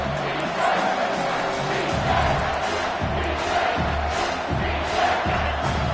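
Football stadium crowd on a big third down in a Washington versus Clemson game: a steady, loud roar of many voices with swelling cheers, continuous throughout.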